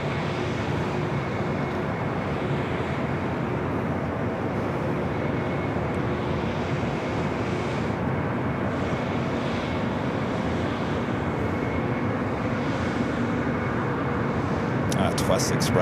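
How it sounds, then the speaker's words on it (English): A Southwest Airlines Boeing 737-800 arriving at LAX on a flight from St. Louis gives a steady, broad jet roar that holds loud throughout, with voices talking over it at times. "Next arrival is Southwest Airlines Flight 4582 coming up from St. Louis, Missouri, is 737-800"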